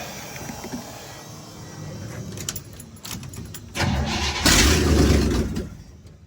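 A Squarebody crew cab truck engine cranks and then catches, rough broadband churning building into a louder start near the end, heard close with some clinking in the background and no talk.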